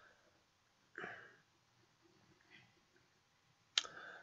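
A computer mouse clicks as downloads are set up, giving a few sharp, close clicks spaced over several seconds in a quiet room, the last one crisp and distinct, with no talk.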